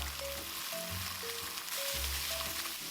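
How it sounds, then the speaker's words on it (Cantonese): Steady, loud sizzling of pork spare ribs pan-frying in a hot wok, a continuous crackling hiss with a low hum underneath. "之後就將啲排骨放入去鑊入邊煎。"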